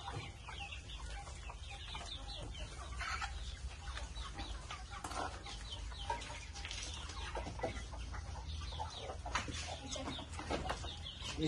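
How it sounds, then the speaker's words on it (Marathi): A native hen sitting on eggs in a nesting box on a village poultry farm clucks softly and continuously, faint and fairly near, with other fowl sounds in the background. "ही इथे कोंबडी बसलेली आहे."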